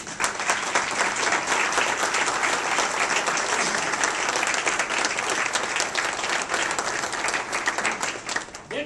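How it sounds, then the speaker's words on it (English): Sustained, steady applause from a banquet audience honoring burn unit staff, many hands clapping together loudly and continuously for several seconds. "we just gotta need to stop right now and just clap for them"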